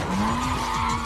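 Car tires squeal and skid through a drifting practice run, a sustained, loud screech with a steady high whine over rumbling engine noise, with no talk.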